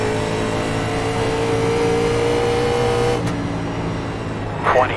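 An Audi race car engine revs and accelerates in a Winter Legends Series sim race at Rockingham, a steady loud droning whine that fades slightly near the end, with a brief squeal at the close.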